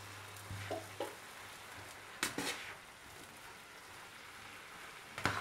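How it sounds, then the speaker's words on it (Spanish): Cooked noodles being stirred with vegetables in a pan, quiet sizzling under a few soft scraping and clattering stirs, with one louder utensil knock near the end. "Los removemos un poquito con la verdura"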